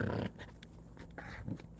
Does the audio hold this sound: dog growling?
yes